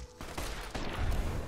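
Gunfire in Fallout New Vegas, a short rough burst of shots swelling into a louder, booming report toward the end, close and brief.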